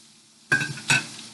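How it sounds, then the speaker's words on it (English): Yellow squash and zucchini sautéing in butter in a pan, heard as a quiet stir-and-sizzle with two brief scraping bursts, close and without talk. "yellow squash and the zucchini cooking in there"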